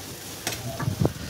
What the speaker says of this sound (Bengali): ভালো করে লাড়া দিতে হবে, না কিন্তু ইন্টারেস্ট হবে না।